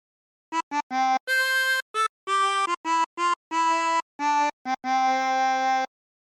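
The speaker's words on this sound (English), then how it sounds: "practice this until you end up with something that sounds like this" A 24-hole tremolo harmonica plays a phrase of Joy to the World, a quick run of separate blown and drawn notes, some short and some held, close and steady with no voices.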